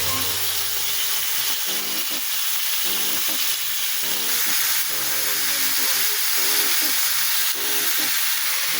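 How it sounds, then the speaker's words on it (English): Prawns fry in a hot pan with a continuous loud sizzle and crackle, and occasional stirring sounds break through with no voices. "Into the pan. It is hot. Be careful, place our prawns."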